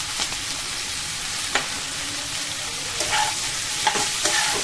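Shredded cabbage is tossed and stirred in a hot pan for Indian-style Mongolian rice, giving a soft, steady sizzle broken by a few sharp scrapes and clinks of a spoon against the metal.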